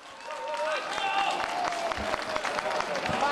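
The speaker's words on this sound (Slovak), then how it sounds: "Obrovský potlesk!" A concert audience at Bratislava Castle bursts into big applause for the band, dense clapping swelling and holding loudly, with a presenter's voice speaking over it.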